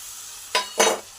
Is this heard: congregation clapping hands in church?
no